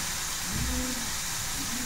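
Broad beans (val) roast in a little hot oil, producing a steady, close hiss that holds evenly for a couple of seconds with no voices over it.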